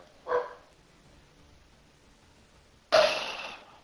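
A dog gives two separate barks indoors, a short muffled woof, then after a pause a louder, harsher bark closer by.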